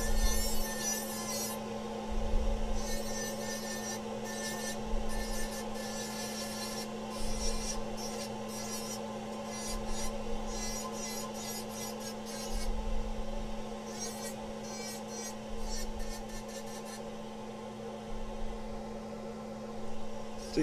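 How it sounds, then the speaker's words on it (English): A rotary burr grinds and cuts through solder on handmade wire jewelry, giving a steady rasping whir with repeated bursts of scraping as the piece is worked, close and continuous over a low motor hum. "So you see why I like using this burr?"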